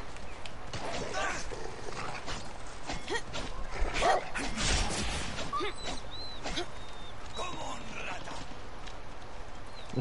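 A dog barks and yips in Far Cry 6, a few short sharp barks scattered through the stretch over steady game ambience, with a voice talking at times.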